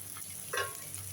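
Onion, tomato and green chilli fry in a pan and are stirred once, giving a short scraping swirl over a steady sizzle.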